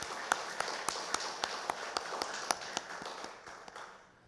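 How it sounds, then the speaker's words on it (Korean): A church congregation claps to celebrate birthdays at a Sunday service, producing steady, rhythmic unison claps at a brisk, even pace from a moderate distance before fading away. "우리 박수로 축하합시다."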